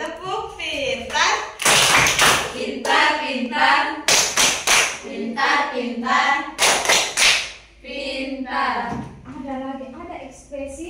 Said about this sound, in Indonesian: Oke, tepuk pintar